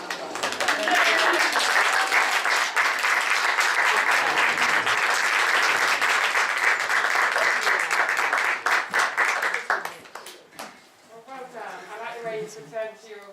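Loud, sustained audience applause after a stage performance, a full room clapping for about ten seconds before it dies away and voices take over.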